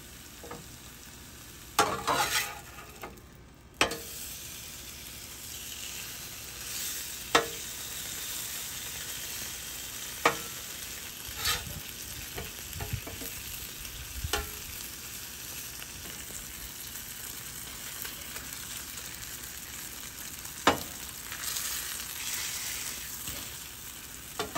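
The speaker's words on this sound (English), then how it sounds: "Make sure it gets cooked thoroughly, and we render off a lot of that fat to get it crispy." Thick bacon strips sizzle on a Blackstone flat-top griddle, a steady moderate crackle of rendering fat, with occasional sharp clicks and scrapes from a spatula.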